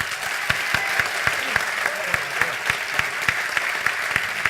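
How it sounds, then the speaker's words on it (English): Audience at a technology conference clapping in a quick, fairly even rhythm, many hands producing crisp repeated claps over a steady background of applause. "should we do the clap again?"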